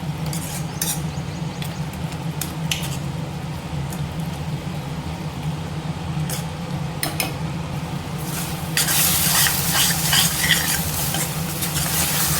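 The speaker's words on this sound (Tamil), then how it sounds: "நான் இன்னும் கொஞ்சம் கொதிக்க விட்டுக்கிறேன்." Thick spicy chutney bubbles and sizzles in a pan, a steady crackling hiss with occasional stirring scrapes, growing louder and fizzier toward the end.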